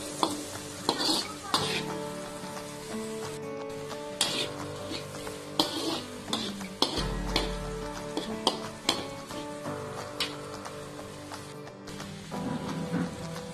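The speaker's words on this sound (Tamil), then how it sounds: "வெங்காயத்தை சேர்த்துட்டு இந்த உள்ளியோட சேர்த்து எண்ணெயில கொஞ்சம் பொரிஞ்சு வதங்குற அளவுக்கு வதக்குறேன்" Onions and garlic fry in oil for Malaysian rice noodles (beehoon), giving a steady sizzle broken by frequent stirring scrapes and clinks of a utensil against the pan, close and moderately loud.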